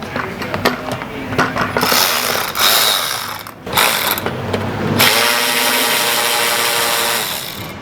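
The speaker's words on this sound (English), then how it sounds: "Gotta love electric ratchets." An electric ratchet whirs and clicks on a car's lower bumper bolts: choppy mechanical bursts at first, then a steady loud motor drone.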